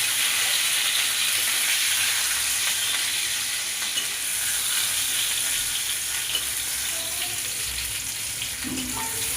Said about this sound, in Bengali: পটলটা ভাজা হলে তারপরে লাল লাল করে ভাজা হয়ে গেছে